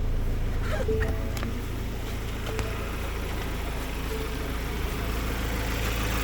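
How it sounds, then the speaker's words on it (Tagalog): A 2023 Ford Ranger XL 4x4 engine idles close by, a steady, continuous low rumble with no revving throughout. "pakita ko lang po pala yung makina na mga umaanda"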